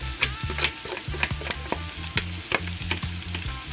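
Saltfish crackles and sizzles in a hot pan for a Jamaican saltfish and kale dish, with rapid irregular pops and spits over a steady frying hiss, close and fairly loud.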